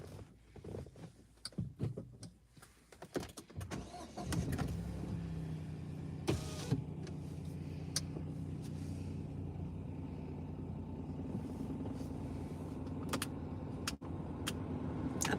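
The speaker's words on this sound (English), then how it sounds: "I'm going to start my car and then I can put my engine up." A car engine starts and settles into a steady idle, preceded by clicks and handling noises, with a brief whirring hum of a power window closing partway through.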